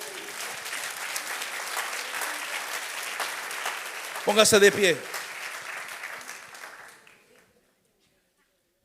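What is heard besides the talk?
church congregation applauding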